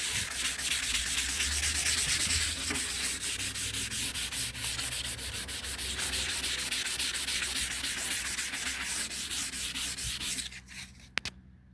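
Steady back-and-forth hand sanding of a yellowed car headlight lens with sandpaper and toothpaste, a continuous close scratchy rubbing that runs without pause, then stops near the end with a couple of faint knocks.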